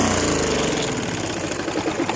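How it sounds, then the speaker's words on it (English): Small go-kart engine with a failing crankshaft bearing, running hot, a loud steady rough drone with rattly, knocking texture throughout. "See, but that noise is the bearing going."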